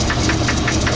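A Logan 14 lathe cuts while the tool is fed in by hand at a slow second-gear feed. It is a loud, steady mechanical drone with a regular rhythmic knock pulsing through it, close and continuous.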